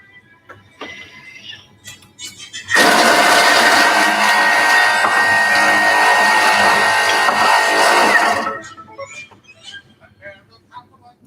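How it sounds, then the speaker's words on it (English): A food processor blitzes ingredients at speed 6, a loud, steady whirring roar lasting about five seconds before cutting off, with quiet talk before and after. "So these are going to be blitzed up for 5 seconds at speed 6."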